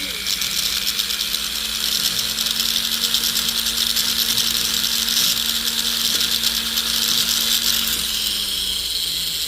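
A file scrapes steadily over a welded metal chain link to smooth the joint, a continuous close, rasping metallic sound with a faint low hum underneath and no pauses.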